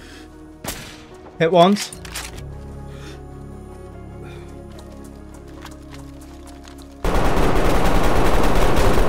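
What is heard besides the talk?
gunfire in the video game DayZ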